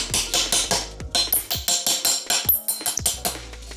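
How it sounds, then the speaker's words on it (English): A rapid, steady series of sharp hammer taps, about a dozen or more, nudging a Lexan plastic window into an Audi TT frame with a bright, slightly ringing knock. "just get your hammer and just nudge it in"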